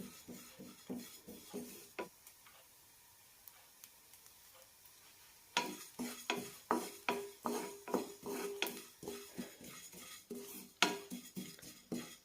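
Sesame seeds dry-roast in a pan, a quiet run of rhythmic spatula scrapes and light taps, sparse at first, then a denser, louder stretch of regular stirring strokes.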